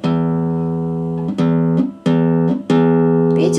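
Bass notes struck on a guitar with the right-hand thumb using rest strokes, four firm attacks each ringing for a while before the next, close and alone without speech.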